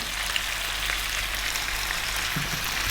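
Chopped onion frying in a hot pan for lamb curry, a steady broadband sizzle with crackling spatters, close and continuous with no talk.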